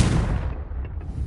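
The Confringo explosive spell is cast in Hogwarts Legacy, landing as a loud, deep blast right at the start that quickly trails off into a rumbling decay.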